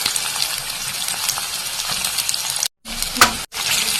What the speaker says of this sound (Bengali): এখন আমি কাটিয়ে রাখা পেঁয়াজ দিলাইছি গাইস।